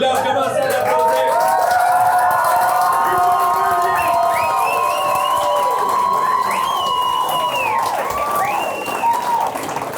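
A comedy show audience applauding and cheering loudly, with continuous clapping under rising whoops and high-pitched shouts, full and close throughout.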